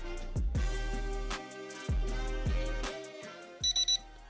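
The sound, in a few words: drone controller beeps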